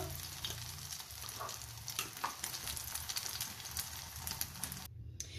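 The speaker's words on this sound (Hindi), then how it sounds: "इसी ऑयल में ये 2 अदद अंडे हैं, तो इनका मैं ऑमलेट बनाने लगी हूँ।" Two eggs sizzle as an omelette in hot oil seasoned with salt and chili, a steady crackling fry with fine popping spatters, quiet and continuous, briefly dipping near the end.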